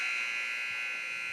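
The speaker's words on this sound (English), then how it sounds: "as you hear the buzzer, ending the first period" A long, steady electronic buzzer sounds at an ice hockey game to end the first period. It holds one unbroken tone at moderate level for the whole stretch, with faint arena noise beneath it.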